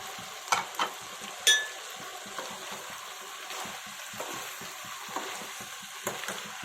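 Gongura leaves being mixed into mutton cooking in a pan: soft sizzling with a few sharp spatula knocks early on, then gentle steady stirring, close by and quiet.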